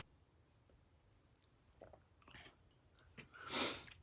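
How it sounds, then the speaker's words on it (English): A person takes one quick, close slurp of coffee near the end, preceded by faint clicks and small mouth noises in a quiet room. "I'm gonna have a slurp of coffee before I continue."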